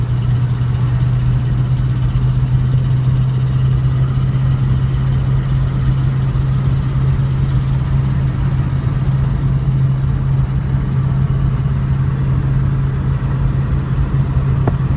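A 1930s car's engine runs steadily while driving, a loud continuous low drone with a strong steady hum, close and unbroken with no talk.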